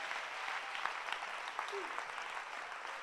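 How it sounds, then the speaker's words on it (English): A congregation at a church camp session claps their hands together, a faint, distant, continuous patter of applause with a few louder individual claps. "Clap your hands for Jesus."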